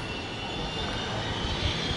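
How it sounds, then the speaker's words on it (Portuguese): Steady aircraft engine roar at a regional airport, a continuous broadband rumble and hiss held at an even level throughout, somewhat distant with no talking. "nós mais uma vez aqui no aeroporto de Sorocaba"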